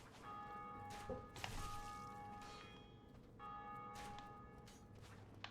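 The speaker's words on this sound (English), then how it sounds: "that bell ringing is that someone just beat the gargoyles" A church bell in the video game Dark Souls tolls a few times, clear and ringing with long overtones, set against a quiet background with faint shuffling.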